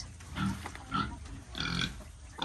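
A pig eating feed of corn flour, bran and salt, with close grunting and snuffling in short bursts about every half second, alone without talk.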